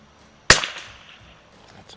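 A single sharp crack from a Savage MKII rifle at the shooting range, loud and close, followed by a brief decaying echo and then near silence.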